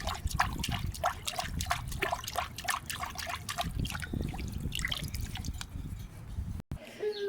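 Water trickling and dribbling in a steady run of small drips and splashes, fairly close and alone, with no voices over it.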